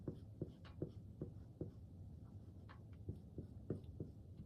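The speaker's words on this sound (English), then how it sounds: "let me write that down" Pen or marker scratching on paper during a chemistry lesson, a run of short quiet strokes in uneven rhythm, close and soft, with no talking.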